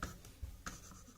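Chalk or marker strokes on a classroom board during a tenth-grade maths lesson: a few short, scratchy marks close by, separated by brief pauses, with no voices.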